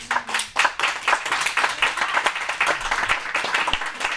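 A church congregation claps loudly and steadily to acclaim the Lord, with dense applause filling the room and a brief voice at the start.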